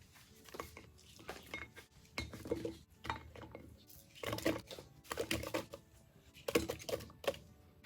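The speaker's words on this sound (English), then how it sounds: "so now we're ready to put them into the crock pot" Cored apples dropped into a crock pot, with a series of soft thumps and clatters, close and fairly quiet, in irregular bursts.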